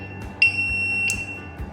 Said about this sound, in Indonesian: Buzzer menyala.